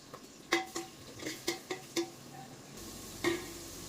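Onions, green chillies, tomato and curry leaves frying in a pan, with a series of sharp spatula clinks and scrapes against the pan over a soft background sizzle.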